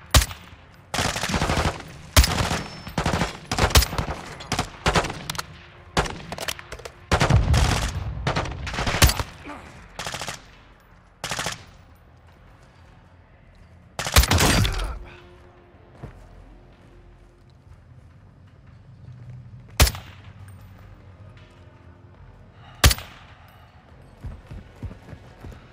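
Call of Duty Modern Warfare 2 gunfire: sharp rifle shots and bursts crack out in irregular clusters, with a louder burst midway and occasional single shots later over a busy battlefield background.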